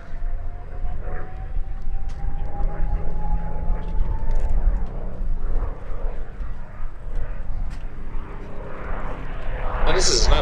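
A P-51D Mustang's propeller engine drones overhead at an airshow display, rising and fading as it passes, with a loud burst near the end.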